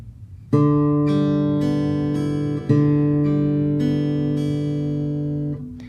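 Fingerpicked guitar notes ring in a steady pattern, with the thumb's plucks noticeably louder than the rest, sustained and close.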